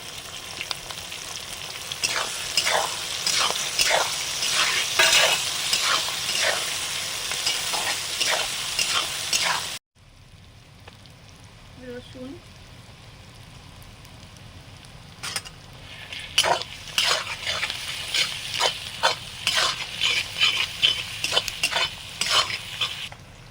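Dried chillies, whole garam masala spices and chopped onion fry in a pan with a loud, steady sizzle and repeated stirring scrapes. The sound cuts off sharply partway through, returns quieter, then builds back to busy frying and stirring.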